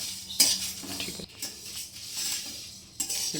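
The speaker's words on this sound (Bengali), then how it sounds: "একটা শুকনো কড়াতে এগুলো ভেজে নেব" A metal spatula scrapes and clinks against a dry wok as dried red chillies and spices are roasted, giving sharp, irregular close-up knocks and rattles over a soft, hissing background.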